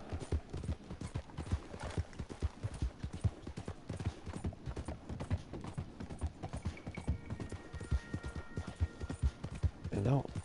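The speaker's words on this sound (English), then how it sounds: "A horse will fucking take you where you need to be." In a video game, a horse's hooves clip-clop in a steady galloping rhythm, moderately close and continuous, while someone talks over the sound throughout.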